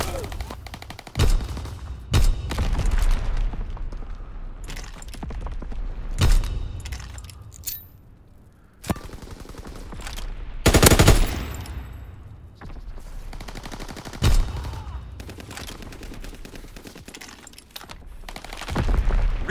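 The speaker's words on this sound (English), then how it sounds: "Fighter pilot ready for strafing run." Video game battle with bursts of rapid gunfire and sharp cracks, loud and irregular, alongside a synthetic announcer voice and clattering effects.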